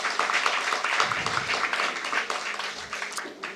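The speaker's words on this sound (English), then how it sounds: "and please applaud him." An audience at an international journal launch applauds a doctor, dense steady clapping from many hands spreading through the hall and holding at a moderate level.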